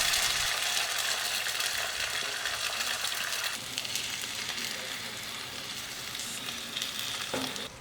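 A fresh egg frying in a pan gives a steady, fairly loud sizzle that holds throughout, easing slightly partway through, with faint scrapes.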